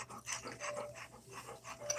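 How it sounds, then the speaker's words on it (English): Dogs from a household of three pant in quick, steady breaths close by, with a low hum underneath and no talking. "we have 3 dogs"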